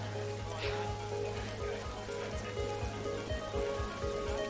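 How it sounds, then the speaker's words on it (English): Heavy rain pours steadily across an outdoor sports pitch, a dense continuous hiss with a low rumble underneath, and faint voices are heard beneath the downpour. "This rain is too dangerous!"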